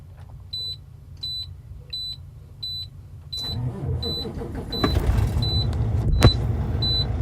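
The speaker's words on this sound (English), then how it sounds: "Right, truck starting." A truck engine cranks and starts at about 3.4 seconds, building into a steady low rumble, while a repeating electronic warning beep chimes at regular intervals throughout, before and after the start.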